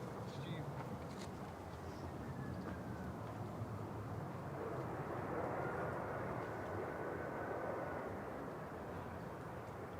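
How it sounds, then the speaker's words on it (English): An EasyJet Airbus A320 arriving from Palma de Mallorca touches down, giving a faint, distant broadband jet roar and rumble that swells slightly in the middle and stays steady under outdoor wind noise. "EasyJet 7269 from Palma de Mallorca, OELQN, just touching down"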